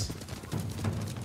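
Rapid hoofbeats of a galloping horse in the video game Ghost of Tsushima thud in quick uneven rhythm, close and moderately loud, with no voices.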